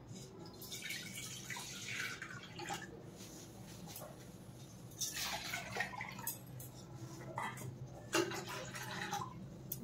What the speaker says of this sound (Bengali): তারপর ঢাকাটা খুলে নেব, তারপর জল দিয়ে দেব